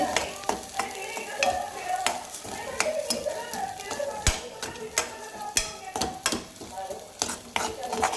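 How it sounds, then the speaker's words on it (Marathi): Roasted peanuts, sesame seeds and chana dal masala being stirred in oil in a pan, with frequent scraping clinks of a spoon against the metal over a soft, steady sizzle, close up. "याला तेल सुटेपर्यंत असं मिक्स करून घ्यायचं व्यवस्थित"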